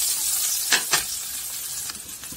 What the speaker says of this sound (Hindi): अभी हल्का सा हो चुकी है, तो यहीं पर डाल देंगे जो हमने हरी मिर्च और लाल मिर्च काट के रखी हुई है, इसको भी हल्का हल्का ही सॉटे करेंगे।